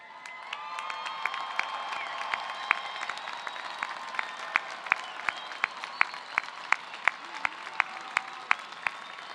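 Graduates at the 2023 CSUN commencement for the engineering and computer science college cheer and applaud, a broad, steady roar of clapping with scattered whoops and sharp distinct claps, spread across a large venue.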